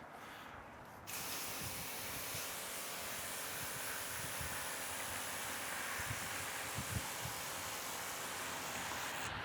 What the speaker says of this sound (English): I'm going to give now brand A a rinse.